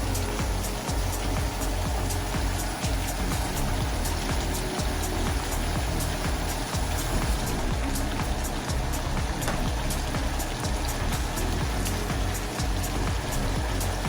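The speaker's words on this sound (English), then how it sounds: "I'm going to wash my hands" Tap water runs steadily and loudly into a sink for hand washing in a kitchen, a constant close splashing hiss with faint dripping ticks, no voices.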